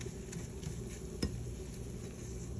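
A fork stirs flour into a quarter cup of hot olive oil for a roux, giving a soft, steady scraping and gentle sizzle. One brief clink of the fork against the pan stands out midway.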